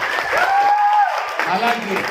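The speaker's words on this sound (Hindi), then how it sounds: "दोनों के लिए बहुत जबरदस्त तालियां हो जाए" An audience at a teachers' debate on online versus offline education applauds in a broad wash of clapping, while a voice talks loudly over it from start to finish.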